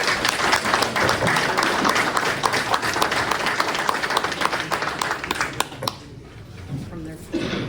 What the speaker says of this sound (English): so they deserve a round of applause